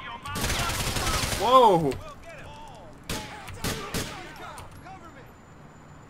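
Police gunfire in GTA 4 plays as a dense burst of rapid shots followed by several separate single cracks, loud and close, with a man's startled exclamation over the volley.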